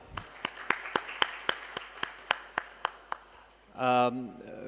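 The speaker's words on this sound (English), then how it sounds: "Could I have a round of applause for all the panelists, please?" Audience at a national disaster-management symposium clapping for the panelists: a dozen sharp, evenly spaced claps ring out clearly, followed by a brief burst of speech.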